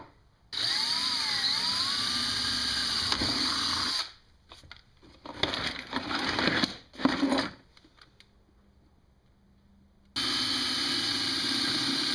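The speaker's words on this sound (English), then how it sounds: "I'm just going to use a Dremel real quick and fix that." A Dremel rotary tool mills a part for a ram air intake on a 1999–2004 Jeep Grand Cherokee 4.7. A close, high-pitched whine with shifting pitch cuts off, gives way to short grinding bursts and a pause, then resumes loud and steady.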